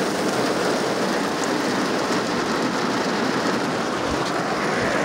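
A heavy rain downpour hisses steadily and loudly without letting up, close and dense, with a few scattered heavier drops or thuds standing out.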